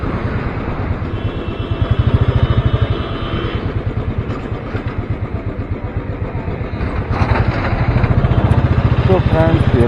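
A motorcycle engine runs while the rider heads to the Dehradun railway station bike parking. Its rapid, even low thumping stays prominent throughout, swelling slightly at times, with a voice heard faintly alongside.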